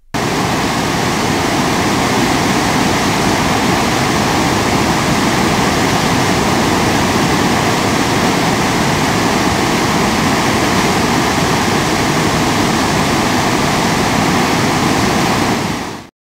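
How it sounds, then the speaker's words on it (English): Niagara Falls roars continuously, a loud, dense rush of crashing water filling the whole stretch with no voices. "The amazing Niagara Falls."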